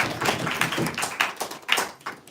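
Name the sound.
audience applause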